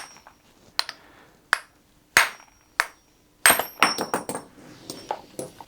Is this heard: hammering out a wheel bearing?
yes